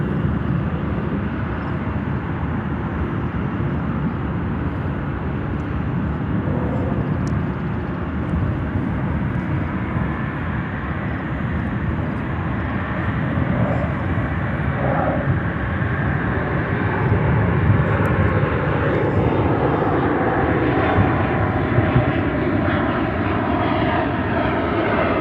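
An Embraer 175 airliner performing a go-around at Chicago O'Hare airport gives a sustained, broad jet engine roar that swells slowly over about twenty-five seconds, heard from a distance with no talk.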